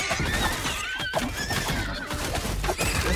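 Video game horses whinny and neigh repeatedly with hoof clip-clops mixed in, loud and close, in a busy stretch of in-game sound.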